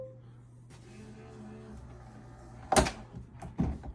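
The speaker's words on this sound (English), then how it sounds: "And it pops the door open for you." The door of a Samsung Bespoke AI all-in-one washer dryer releases automatically with a sharp pop and a thunk, then a second softer knock, after a low steady appliance hum.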